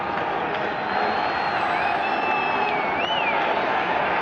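A large stadium crowd at Shea Stadium during a Green Bay Packers at New York Jets football game roars as a steady, dense wash of noise, with faint whistle-like tones drifting above it.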